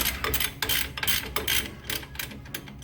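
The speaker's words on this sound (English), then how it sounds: "These are lock nuts, so they fight you all the way out." Ratchet wrench backing lock nuts off the axle of a Ford 8-inch or 9-inch differential, a close run of quick clicking pawl bursts in an uneven rhythm, fairly loud with no talking.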